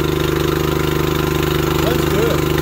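A small engine with an electric choke, already running at a steady, loud idle with a fast, even harmonic chug that fills the whole clip close up, with no talk over it.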